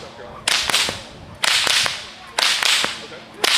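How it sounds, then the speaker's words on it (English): A two-handed bullwhip routine called the helicopter, performed at a western museum: four sharp, loud whip cracks about a second apart, each followed by a brief rushing swish as the lash swings around. "I've got a two-handed whip crack called the helicopter"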